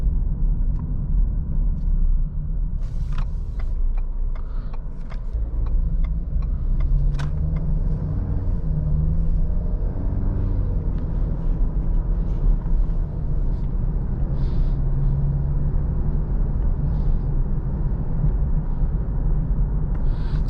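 Steady interior drone of a 2022 Ford Explorer SUV under way on the road, with a low engine and road rumble running continuously, plus scattered light clicks and cabin rattles through the drive.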